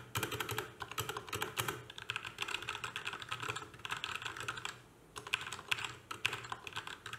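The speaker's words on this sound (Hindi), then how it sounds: "तो टाइपिंग एक्सपीरियंस काफी अच्छा है, की लूज नहीं है एंड वॉबल भी नहीं होती है।" Rapid, continuous key clacks from a Portronics Hydra 10 mechanical wireless keyboard, typed at a brisk steady pace close up, with a short pause near the end before the typing resumes.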